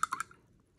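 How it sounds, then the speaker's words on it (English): An acrylic paintbrush is rinsed in water, a few quick faint swishes and drips in a short burst, then near silence with a tiny click at the end. "I'm gonna rinse off my brush."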